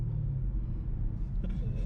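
Deep, steady exhaust rumble from a Camaro ZL1 fitted with a new loud exhaust, a continuous low drone heard alone at moderate distance.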